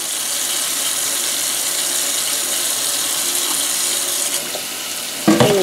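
Running tap water splashes over a piece of etched glass held under the faucet, a steady close rush of water, with a short clatter near the end.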